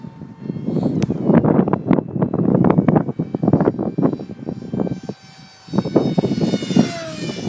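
A Multiplex Funjet Ultra RC jet plane flies over a park, its electric motor whining in rising and falling bursts as it passes overhead, with wind buffeting the microphone and a brief lull near the end.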